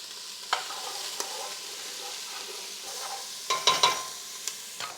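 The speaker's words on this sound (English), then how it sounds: "We'll go ahead and toss in our chopped onions and our garlic" Chopped onions and garlic sautéing in a pot for a ground turkey minestrone: a steady soft sizzle with a few sharp stirring clacks of a utensil against the pot, close and without talk.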